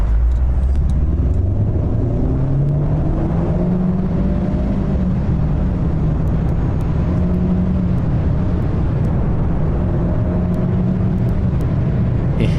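A Chevy Spark makes a quarter-mile run, its engine droning loud and close as it rises steadily in pitch through the gears over constant road rumble, with no talking.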